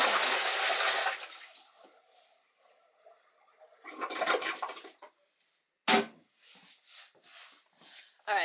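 A bucket of water is poured into a toilet to flush it during a power outage: a loud rushing gush at the start, then a second pour with trickles, splashes and handling noises between quieter gaps.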